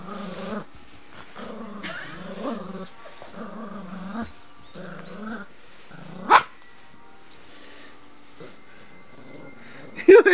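A dog growls and whimpers in short bursts, close up, with a couple of brief sharp barks or snaps near the end; no talking.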